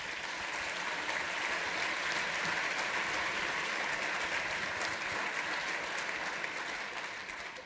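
A large chamber of commerce audience in a hotel ballroom applauds the Parris Island Marine Color Guard, a dense, steady wash of clapping that holds evenly throughout.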